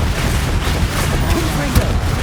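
An Expelliarmus disarming spell is cast during a duel in the Hogwarts Legacy video game: a sharp magical burst cuts through a constant low rumble of combat effects, with a brief brighter crack near the end.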